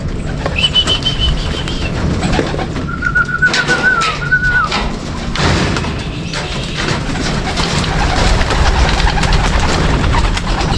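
Racing pigeons are released to fly on a loading day in Catbalogan, Samar. Wingbeats flutter and clap over steady outdoor noise, and several high whistles ring out close by.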